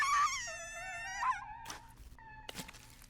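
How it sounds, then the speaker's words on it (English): A terrified scream in the horror game Death Mark, heard from a phone and from outside a booth: a loud, wavering, high-pitched wail that bends downward, followed by a few thuds and a thinner electronic tone. "Suzu's terrifying scream echoes from both the phone and the outside of the booth."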